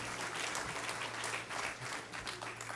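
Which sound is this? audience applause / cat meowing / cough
audience applause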